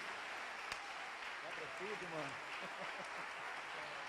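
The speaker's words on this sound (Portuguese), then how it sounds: "aplauda o Senhor bem forte" Congregation applauding in church, a broad, even wash of many hands clapping at a distance while a voice speaks over it, with one sharp knock standing out early on.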